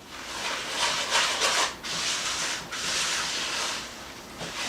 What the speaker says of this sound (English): Now I'm just going to take my spatula and just stir this sugar and the oil together really well.